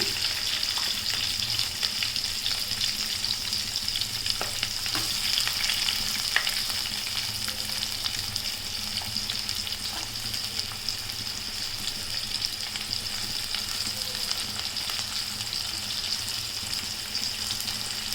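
Onions and mustard seeds fry in hot oil in a pan, a steady close sizzle with crackling pops and occasional stirring scrapes, running on without pause.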